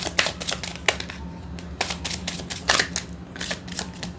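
Tarot cards riffled and flicked in quick crisp bursts close by, with short pauses between runs of snapping paper as cards are shuffled and drawn.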